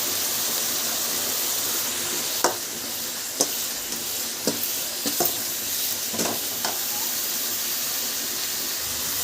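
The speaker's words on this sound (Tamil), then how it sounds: "கருவேப்பிலை, பூண்டு, வெங்காயம் மூணு வந்து ஆட் பண்ணி நல்லா வந்து வதக்கிக்கலாம்" Curry leaves, garlic and onion sauté in a hot pan with a steady close sizzle, punctuated by several sharp clinks and scrapes of a spoon stirring against the metal.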